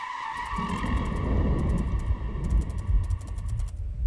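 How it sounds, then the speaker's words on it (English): A car's tires screech and squeal over a rumbling engine in a horror video game, a loud burnout lasting several seconds, with rhythmic clicking ticks sounding above it. "Somebody just had a fucking fat burnout outside. You close your eyes and hear the brakes screeching."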